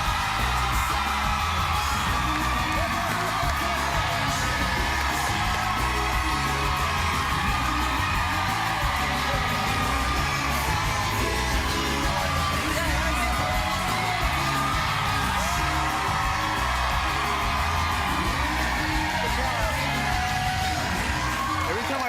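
A studio audience on a talk show cheers, whoops and yells nonstop as Ricky Martin is welcomed, a dense and loud crowd roar with no pauses.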